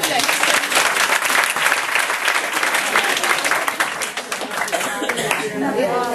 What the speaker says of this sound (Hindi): और यीशु मसीह के लिए एक ताली।